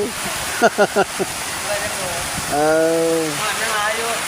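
Water flows steadily in a rural stream, a broad constant rushing wash close by, with voices talking over it.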